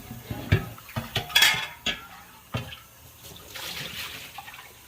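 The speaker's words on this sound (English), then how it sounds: "Okay, so got that rinsed out." Water splashes and clatters as a milking machine lid is rinsed out, with sharp knocks of the lid against a sink and a trickle of running water, close and fairly quiet, without talking.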